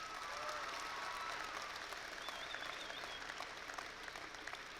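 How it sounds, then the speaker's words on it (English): An audience at a high school graduation ceremony claps in sustained, even applause that continues steadily and fades slightly toward the end, heard from within the hall. "Would you please give them a round of applause?"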